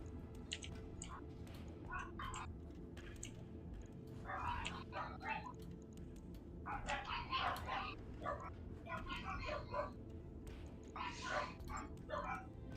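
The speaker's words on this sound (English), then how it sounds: "It's the doggos." Several dogs barking in short yappy clusters, quiet and a little distant, with gaps between bursts over a steady low background hum; no voices over them.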